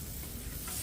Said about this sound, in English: We're going to throw the mushrooms and onions in here.